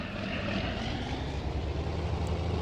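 A tractor engine in Farming Simulator 19, heard from first-person view as a steady droning rumble that holds even and fairly loud throughout, with no talk.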